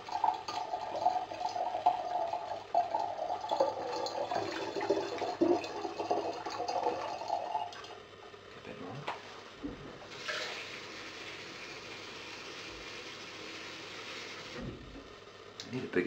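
Homemade wine brew poured from a large jug into a glass demijohn, a steady liquid gush and glug lasting several seconds, then quieter trickling and a brief higher splash near the end, close and fairly clear.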